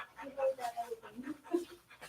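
An English Springer Spaniel standing on a grooming table pants in quick, soft, steady breaths close by, under ongoing conversation.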